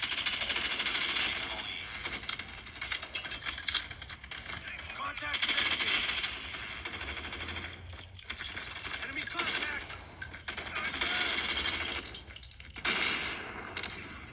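Gunfire from the Call of Duty Mobile game comes in loud, sustained automatic bursts separated by brief pauses, dense and close.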